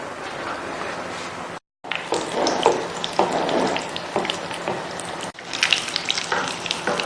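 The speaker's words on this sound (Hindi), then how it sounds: "और ये इतना बड़ा कबाब है कि इसको फिलहाल एक ही हम फ्राई करेंगे" A large minced meat and potato kebab fries in a pan with steady close sizzling and crackling, interrupted by a brief silent gap and a few stirring or shifting sounds.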